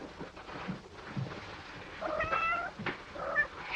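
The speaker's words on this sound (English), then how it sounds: "Poor kitties. Had to stay here all this time behind" Kittens meow in a 1947 film scene, a few thin, plaintive cries near the middle and end over faint rustling and background hiss, with no one speaking.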